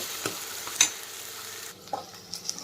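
Onions sautéing in a pan for a dal-free lauki kofta curry gravy, with a soft, steady sizzle under a few close scraping stirs and light clinks of the spoon, and no voices.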